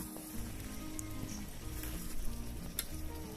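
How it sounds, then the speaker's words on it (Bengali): Mutton with fried potatoes and ground spices sizzles in a pan while being braised for mutton kosha, a soft continuous crackle with occasional small pops and stirring scrapes. "এই গুঁড়ো মশলাটা দিয়ে দেওয়ার পরে মাটনটা আরও কিছুক্ষণ ধরে কষিয়ে নেব।"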